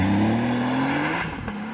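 A Porsche 911 Turbo S hybrid launching with stability control off, its engine note climbing steadily in pitch as it accelerates hard, loud and close, then a brief shift-like break near the end.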